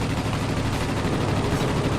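Rapid machine-gun fire from a Spitfire Mk I in the World of Warplanes game, a dense continuous burst at steady loudness throughout, with no talk over it.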